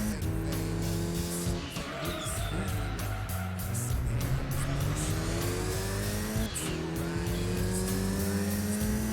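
Mitsubishi Evo VI RS racing in Gran Turismo 2: a steady, loud engine drone with rising and falling harmonics as it revs through gears, with brief tire squeals and passing cars, continuous throughout.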